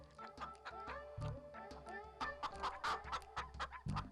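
A hen clucks steadily with her chicks, the clucks rhythmic and close, mixed with higher peeping calls throughout.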